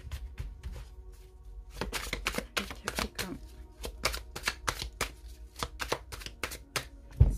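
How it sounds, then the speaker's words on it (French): Tarot cards are shuffled by hand, a run of sharp papery slaps and flicks in irregular bursts, close and fairly quiet, with no talk. "c'est pour ça que je les mélange bien, pour avoir des cartes à l'endroit et des cartes à l'envers."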